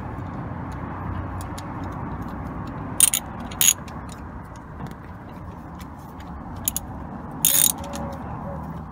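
Socket ratchet clicks in short bursts while a VW T4 van's starter nut is tightened, sharp metallic ticks around a few moments over low steady background hum, close by.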